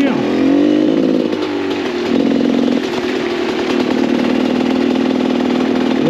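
A GasGas 300 dirt bike engine drones loud and close while riding, a steady buzzing two-stroke note that dips briefly and surges back, sustained throughout.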